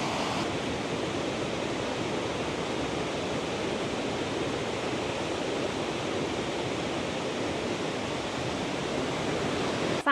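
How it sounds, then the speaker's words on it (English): A waterfall in Scotland pours in a steady, dense rushing roar, even and unbroken from start to finish, heard without any voices. "The sound of waterfalls is always what amazes me."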